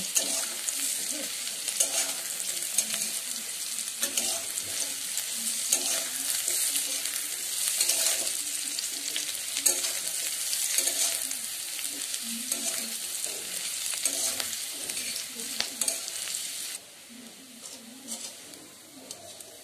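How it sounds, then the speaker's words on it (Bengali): Mixed vegetables for veg fried rice frying in a pan, a steady close sizzle with repeated scraping stirs throughout, easing slightly near the end; voices and faint bird coos sit low in the background. "তো সমস্ত কিছু ভালোভাবে মিশিয়ে নিয়ে 2 মিনিট মতো ভেজে নেব।"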